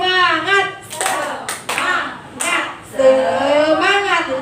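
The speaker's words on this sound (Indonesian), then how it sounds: "mari kita tepuk semangat dulu" Teachers at a school training session perform a rhythmic group clap chant, several sharp clap bursts in a patterned beat alternating with group voices chanting together.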